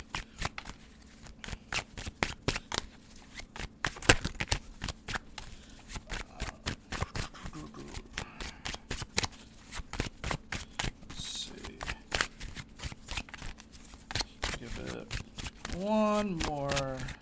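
A deck of tarot cards being shuffled by hand in repeated quick riffling bursts, close and crisp, with a person speaking over parts of it.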